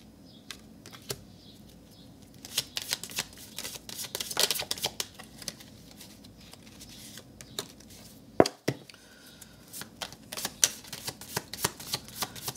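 Healing with the Angels oracle cards being shuffled by hand, a run of quick, crisp riffling flicks and slaps in irregular bursts, close and fairly quiet, with brief pauses between handfuls.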